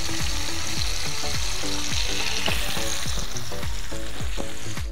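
Tamban fish fillets frying in hot oil, a loud, continuous sizzle with bubbling crackle and repeated scraping stirs at a steady pace, close up with no talking.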